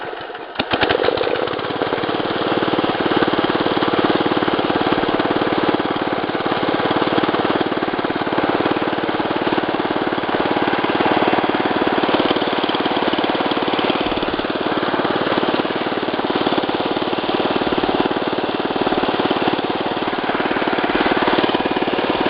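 A Wheel Horse 875 lawn tractor engine catches with a brief burst, then settles into a steady, loud, even running drone that continues unchanged for around twenty seconds, close by and with no speech.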